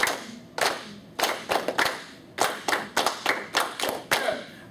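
A music class claps a rhythm together, about a dozen sharp group claps in an uneven pattern, close and in a room with no talking.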